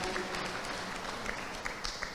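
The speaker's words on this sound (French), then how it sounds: "je vous invite à l'applaudir" An audience at a Guadeloupe convention applauds after a speech, a steady wash of clapping with a few sharper individual claps standing out near the end.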